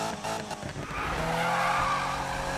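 A Subaru BRZ in Need for Speed 2015 slides with grippy tires, a skidding squeal over a revving engine that begins in choppy bursts and then settles into a sustained drifting whine, with no voices.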